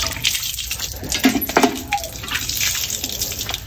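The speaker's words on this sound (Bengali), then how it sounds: "এখন হাতটা একটু ধুয়ে নিয়ে নিই" Running tap water splashes over hands being washed at night at a home sink, a steady broadband rush with brief louder splashes as the hands move under the stream.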